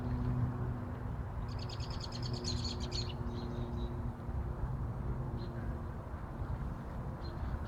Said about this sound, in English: I don't know if you can hear the birds in the background